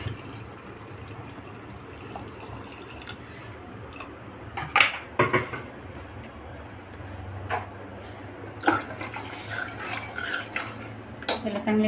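A spoon stirs brinjal, red pumpkin, carrot and water for sambar in a pressure-cooker pot, making soft scraping and swishing with a few louder metallic clinks and knocks. The sound is fairly quiet and close.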